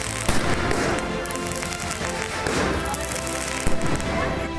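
Diwali firecrackers exploding in a dense, continuous crackle with sharp bangs and pops, loud and close, with some voices underneath.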